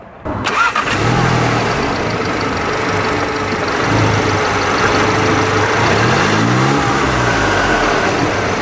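A Volkswagen MK7 GTI engine with a new turbo intake starts up and idles, then revs in a few rising and falling swells, loud and close with no talking.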